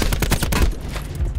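Rapid gunfire in Call of Duty: Blackout on Nuketown Island, loud and close, a dense fusillade of overlapping shots filling the whole short burst.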